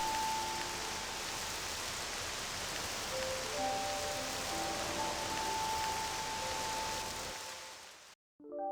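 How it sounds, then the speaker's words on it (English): Steady rain falls across an empty village in the Octopath Traveler 2 video game, a dense continuous hiss with soft game music tones layered over it, cutting out near the end. "Rain."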